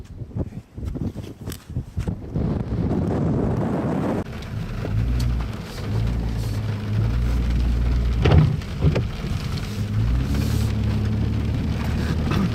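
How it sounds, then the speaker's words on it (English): Heavy rain falling outdoors during a fur-trapping outing, a dense steady wash with occasional sharper patters, loud and continuous throughout. "This heavy rain is really going to mess us up"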